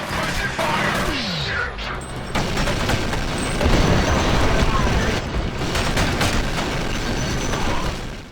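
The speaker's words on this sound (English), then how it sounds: "You can't go wrong with holding the trigger down and watching enemies fall or things exploding." A minigun firing and explosions in the video game F.E.A.R. Extraction Point: a loud sustained roar of rapid fire mixed with booming blasts, with speech over it.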